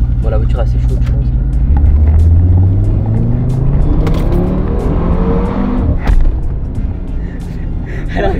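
An Audi RS3 revs and pulls away, its engine note rising and falling in loud, close sweeps while people talk over it inside the car.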